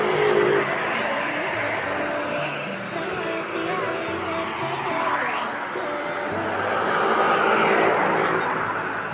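Busy Davao city street during the Kadayawan Festival, with cars passing close by in a continuous rumble of engines and tyre noise that swells and fades over nearly ten seconds, people talking over the traffic.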